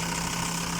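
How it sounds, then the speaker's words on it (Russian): A car engine idling with a low, steady growl and a constant hum, recorded close up in a brief, even stretch with no voices. "с характерным рычанием, с небольшим. Это прям вообще идеальная песня для этого двигателя"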